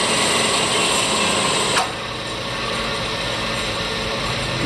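A Comet 2 HP 9 x 42 inch vertical milling machine runs with its main motor on high speed and low gear, giving a steady, close mechanical whir with a slight shift in tone partway through.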